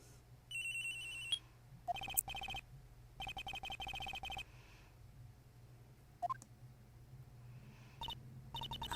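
A cell phone ringtone from the Ace Attorney: Trials and Tribulations video game plays in repeated short electronic bursts, a few seconds each, with brief gaps and a couple of small blips between them, fairly quiet.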